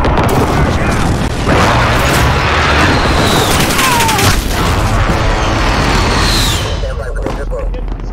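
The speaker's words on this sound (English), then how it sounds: "Be advised, friendly precision airstrike inbound." Heavy rumbling explosions from a precision airstrike in Call of Duty: Modern Warfare multiplayer on PS4, a loud, continuous roaring barrage with a whistling streak partway through, under a voice.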